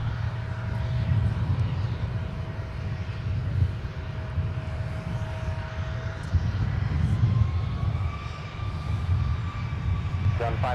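A jet airliner taking off from runway 12 right at Minneapolis–Saint Paul airport, a steady loud engine roar with a low rumble throughout, while a radio voice from air traffic control talks faintly over it.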